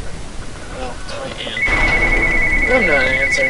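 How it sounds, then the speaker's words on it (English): A telephone rings indoors, a steady electronic trill starting midway and sounding over game sounds and background noise while people talk. "Phone."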